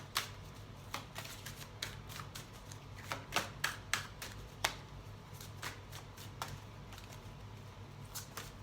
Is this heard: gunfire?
no